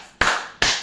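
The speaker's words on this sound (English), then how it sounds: "Please clap for this woman sitting." Two sharp claps, about 0.4 seconds apart, ring out close and fairly loud, with no voices over them.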